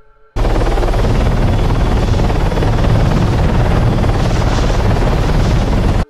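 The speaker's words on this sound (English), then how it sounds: "winds whistling past you and beating against the hull of your helicopter" Steady, loud video game helicopter rotor noise begins abruptly and drones on without a break, a dense thumping roar filling the whole stretch.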